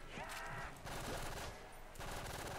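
Rapid bursts of automatic gunfire in the video game World at War Zombies crackle in quick succession, fairly faint and continuous, with short pauses between volleys.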